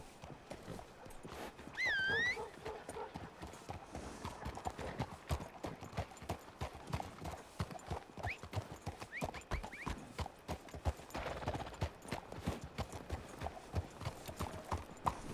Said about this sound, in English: All right, Jordan and I, let's ride up ahead and let's get Scarpa and Cesare their horses at the very least.